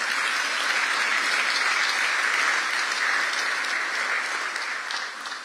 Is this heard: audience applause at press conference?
yes